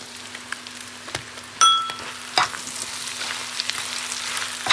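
Egg and sausage sizzle steadily in a hot pan, with a couple of sharp clatters of a utensil against the pan.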